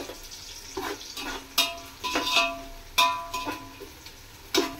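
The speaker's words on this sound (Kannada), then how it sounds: "ಈರುಳ್ಳಿ ಸ್ವಲ್ಪ ನಿಧಾನಕ್ಕೇನೆ ಫ್ರೈ ಮಾಡ್ಕೊಳ್ಳಿ" Onions frying slowly in a pan for biryani, a steady low sizzle broken by repeated stirring scrapes and clinks of a utensil against the pot, close up with no voice.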